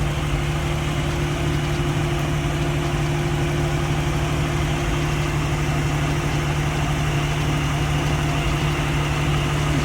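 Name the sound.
car engine idling after engine refresh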